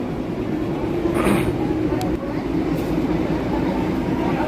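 A toy train rolls into Kurseong station on the hill railway, a loud, continuous rumble of wheels and carriages close by, with a brief hiss and a sharp clank partway through.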